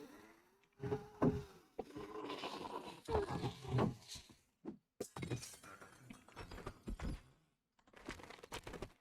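Glass breaks in the survival game 7 Days To Die, a sharp shattering burst midway through a stretch of buzzing, insect-like game ambience, with no talking.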